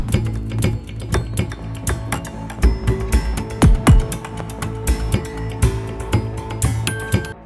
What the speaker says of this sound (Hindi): ये देखें इस तरह आराम आराम से चम्मच हिलाएंगे